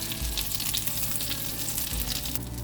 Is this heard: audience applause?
no